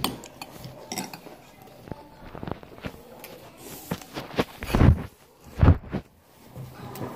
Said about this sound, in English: So I'm gonna mix my bananas in